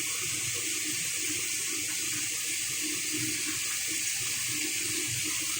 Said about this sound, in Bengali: এখন এখানে সামান্য একটু জল দিয়ে দিলাম।